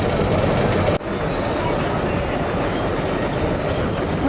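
Compartment sleeper car on a train from Khabarovsk to Yakutsk in minus-twenty cold, running with a steady loud rumble and faint wheel squeal throughout, after a brief dip near the start.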